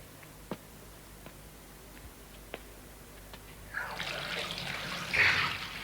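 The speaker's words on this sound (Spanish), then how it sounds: "Empiece por elegir una bañera y llenarla de agua" A bathtub fills with water: a few faint ticks and taps first, then a broad rushing gush of running water that starts partway through and grows louder toward the end.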